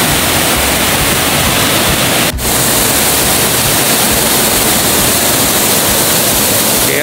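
A waterfall in Bagac, Bataan roars as a loud, dense, steady rush of white water close by, unbroken apart from one brief dip.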